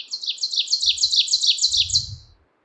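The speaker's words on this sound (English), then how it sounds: "We've had a couple of ovenbirds already, but this is where they really take over." Ovenbirds singing in a white spruce stand in Maine, a loud, near, rapidly repeated two-note chant building steadily across the phrase, with faint low rustling underneath.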